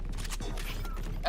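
A weapon reloads in a shooting video game, a short run of mechanical clicks and metallic creaks heard close and fairly loud over steady background noise.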